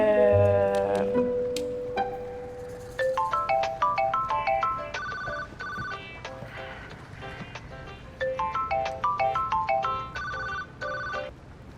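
A mobile phone rings with a bright electronic ringtone melody that plays close and clear in repeated tuneful phrases, with no voices over it.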